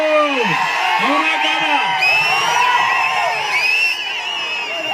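A large crowd at a Chandrababu Naidu political rally in Uravakonda cheers loudly and continuously, with shrill whoops, whistles and yells rising over the sustained roar, close and energetic throughout.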